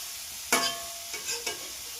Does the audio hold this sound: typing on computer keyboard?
no